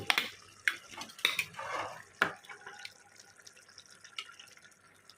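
Spicy mutton curry being added to rice cooking in a pot over a medium flame, with a few wet plops and scrapes of a spoon against the vessel, then a soft ongoing simmer with occasional clinks.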